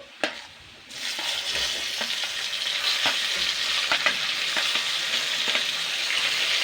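Two large chopped tomatoes drop into a hot pan with a sharp clack, then a loud, steady sizzle follows, broken by repeated scraping stirs of the spoon against the pan.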